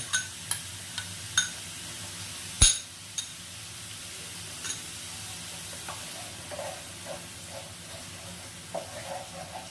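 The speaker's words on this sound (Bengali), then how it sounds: "এখন আমি এর মধ্যে দিয়ে দেব টক দই।" Sour yogurt goes into a partly cooked spice masala for green paneer and is stirred, giving a soft, low sizzle with scattered clinks and scrapes of the spoon against the pan. One sharper knock lands partway through.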